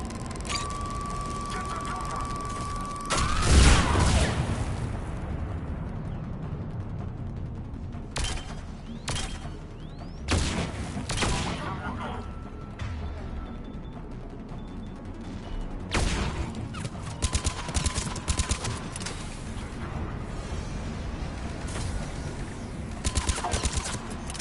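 Bursts of gunfire crackle through a Mass Effect 3 battle on Tuchanka, with sharp volleys and rapid rattling spread across the clip over a steady game ambience, some shots loud and close, others fainter.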